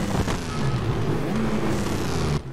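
A 1930s Formula One race car engine in the racing video game TOCA 3 drones steadily and loudly at close range, its buzzing tone holding nearly level before cutting off abruptly near the end.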